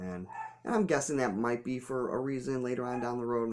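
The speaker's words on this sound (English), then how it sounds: "Excuse me if you can hear my dog barking in the background." A dog barks a few times in the background while someone talks continuously in the foreground, the barks faint and partly masked by his voice.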